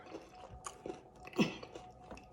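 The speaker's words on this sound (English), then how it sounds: "Y'all hear that crunch?" Soft, close crunching of someone chewing crispy fried oyster mushroom, several uneven bites, faint and without talk.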